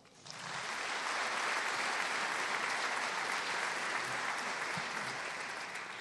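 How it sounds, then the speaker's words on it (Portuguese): Sustained applause from a large crowd fills a gala evening of a football club, Sporting Clube de Braga, rising quickly after a soft start and holding steady and loud throughout. "Um aplauso."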